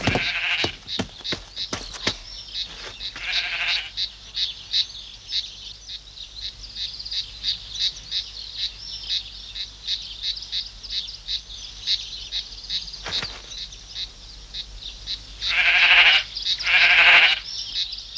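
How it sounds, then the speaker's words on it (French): A flock of sheep (ewes) bleating steadily over a long stretch, with many overlapping calls at varying distances, some close and loud, others faint in the background. "s'il y a vraiment des différences entre les brebis"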